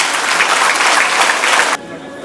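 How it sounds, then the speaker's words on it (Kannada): A seated audience at an award ceremony breaks into loud, dense applause that fills the room for nearly two seconds before stopping abruptly, leaving faint background hum. "ಜೋರಾದ ಚಪ್ಪಾಳೆಯೊಂದಿಗೆ."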